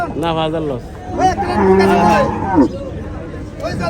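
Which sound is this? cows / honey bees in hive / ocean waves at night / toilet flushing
cows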